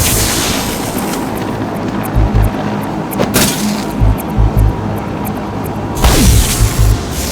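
Deep explosions in Batman: Arkham City as a jammer terminal is destroyed, a loud boom near the middle and another toward the end over rumbling game ambience and low thuds.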